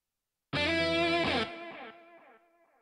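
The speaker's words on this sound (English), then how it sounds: "Try to make vibrato to sound like it's played by your hand with a real-life guitar." Distorted electric guitar note made with automation clips for a hand-like vibrato, one loud sustained tone starting abruptly, wavering slightly in pitch, then cutting back to a decaying tail, with no talking.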